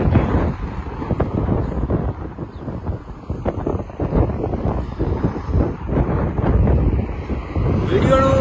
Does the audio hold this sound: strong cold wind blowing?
yes